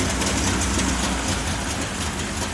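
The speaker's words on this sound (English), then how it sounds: "sounds like Murphy has finally got the engine running" A car engine rumbles steadily at idle, a constant low droning hum with no breaks.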